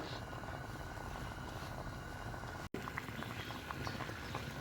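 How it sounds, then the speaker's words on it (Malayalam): A pot of drumstick and dal curry comes to a boil for a homestyle village lunch, giving a steady, dense bubbling and simmering hiss throughout, with a brief dropout partway through. "ഇനി ഇത് നന്നായിട്ടൊന്ന് തിളച്ച് വന്നാൽ മതി"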